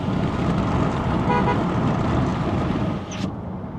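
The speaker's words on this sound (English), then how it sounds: "nice sounding horn." A 2023 Volvo XC40 compact SUV sounds its horn in a brief toot over a loud, steady wash of engine and road noise.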